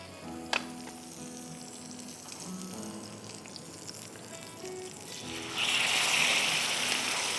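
Marinated chicken and beef undercut boti sizzling on a hot tawa, a steady crackling fry with a brief clatter early on, then the sizzle surges louder near the end as more meat hits the pan.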